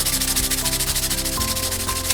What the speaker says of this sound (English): just a light sanding on this surface here